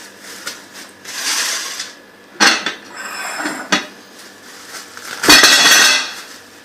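Ice cream cake unmoulded onto a plate, with close, loud clattering and clinking of metal tin and cutlery against dishware in several bursts, separated by quieter scraping.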